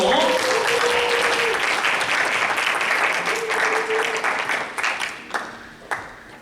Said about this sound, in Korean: 현수 집사님 나오실 때 박수로 한번 맞이해주세요